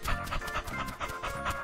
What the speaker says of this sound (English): Little puppy, come quick.